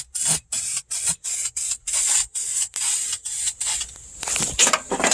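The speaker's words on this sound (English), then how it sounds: "let's get this out of the way and spray this final piece right here" Short bursts of spray coating hit a Prius car part during a manual conversion. About a dozen close hissing blasts stop and start in quick rhythm, and the last bursts are longer and rougher.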